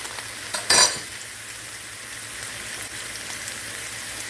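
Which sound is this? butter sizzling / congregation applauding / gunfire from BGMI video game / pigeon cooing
butter sizzling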